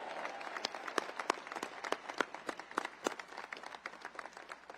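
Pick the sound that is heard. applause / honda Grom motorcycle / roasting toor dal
applause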